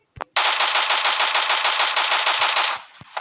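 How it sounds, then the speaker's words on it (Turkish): Sustained automatic gunfire in PUBG Mobile, a loud, rapid burst of about two and a half seconds, bracketed by a couple of single shots before and after. "Dayı bana biri sıkıyor."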